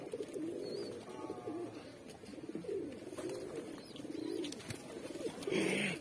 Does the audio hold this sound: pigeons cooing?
yes